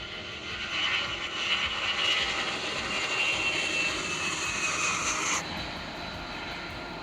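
Steady roar of C-17 Globemaster jet engines with a high whine on top, loud and continuous, easing slightly near the end.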